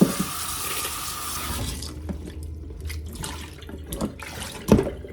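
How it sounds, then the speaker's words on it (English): Okra washed under a running kitchen tap, steady water gushing at first, then thinner splashing and dripping with a few clatters near the end. "So we'll start by washing our okra."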